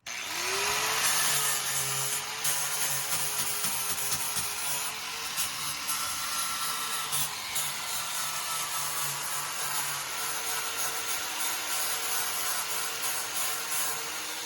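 A power grinder runs steadily on a freshly set patch in a bus floor, a continuous harsh abrasive whine with a sustained rubbing rasp, close and loud throughout.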